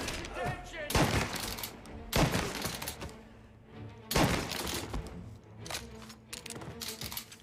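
Bursts of gunfire in the video game Mafia Definitive Edition: several loud, sharp volleys in a firefight, separated by short gaps, with shouted voices between the shots.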